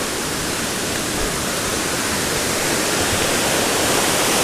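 Rushing water of a river waterfall on the Cascade River along the Superior Hiking Trail, a loud, dense, unbroken roar filling the whole stretch, close by.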